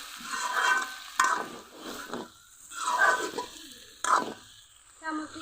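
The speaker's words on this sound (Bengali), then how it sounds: "ভালো করে একটু নেড়ে দিচ্ছি" A spoon scrapes and stirs pumpkin pieces in a kadai in several rough, uneven bursts, close and moderately loud, with a faint sizzle between strokes.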